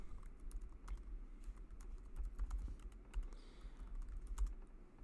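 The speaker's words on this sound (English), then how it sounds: "So it's as simple as just starting to type." Soft, irregular keystrokes tap on a computer keyboard while text is entered in Apple Pages, quiet and close with brief pauses between bursts.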